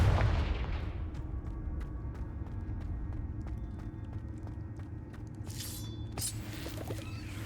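A Confringo spell blast in the video game Hogwarts Legacy opens with a loud booming burst, then a long rumbling decay with scattered clatter and a bright shimmering flourish near the end.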